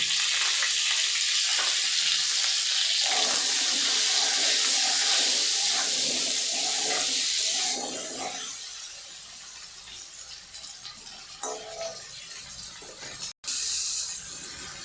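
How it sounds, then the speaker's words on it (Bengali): Pointed gourds frying in oil over a high gas flame, giving a loud, dense hiss that fades partway through, leaving quieter sizzling with occasional clinks of stirring. "গ্যাসের দম বাড়িয়ে দিয়ে পটলগুলোকে খুব সুন্দর করে ভাজুন, লাল করে"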